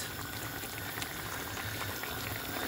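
Rajma boils hard in a pot over a high flame, a dense, continuous bubbling and roiling heard up close with no voices.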